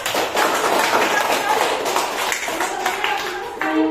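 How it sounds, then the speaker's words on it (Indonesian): Schoolchildren clap for a classmate in an Indonesian classroom lesson, uneven scattered clapping mixed with voices and room noise. "Tepuk tangan dulu tuh temannya."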